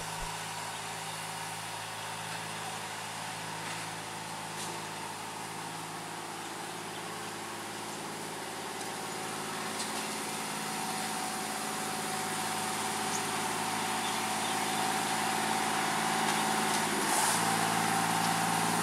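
A sugarcane railway locomotive climbs uphill through a plantation at Tanggul, its engine a steady low drone that slowly swells louder as it labours on the grade.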